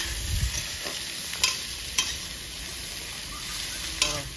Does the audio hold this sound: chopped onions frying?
yes